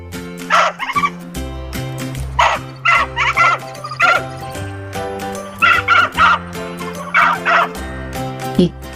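Dogs in an animated jungle fable close in on a fox, barking and yipping in repeated short bursts, loud and near, with tonal cartoon music running underneath.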